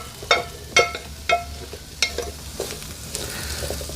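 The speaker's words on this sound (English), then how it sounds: "Next, we're gonna add in the potatoes that we had boiled up" Boiled potatoes drop into a skillet of garlic and shallot for a sausage and potato dish, setting off a few sharp clatters early on, then a lively sizzle and scraping stir. No one talks.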